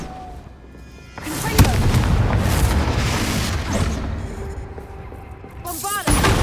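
A Bombarda spell explodes in Hogwarts Legacy with a loud, booming impact, followed by a sustained roaring rumble and debris, then a second sharp burst near the end; someone speaks around it.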